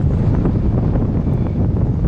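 Strong wind sweeps across a lake during crucian carp float fishing, a loud, steady, low rumbling buffet pressing close on the microphone, with no voices.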